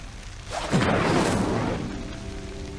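Incendio fire spell cast in Hogwarts Legacy: a close, loud whooshing burst of flame that swells and then slowly fades into a low roar, with no talk.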